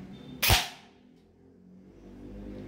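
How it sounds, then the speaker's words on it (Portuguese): A Neptune 10 Plus airsoft gun fires a single 0.25 BB during a chronograph test, a sharp close crack followed by a short decaying tail and quiet room tone. "Vamos para o segundo disparo para testar aqui quanto é que vai dar."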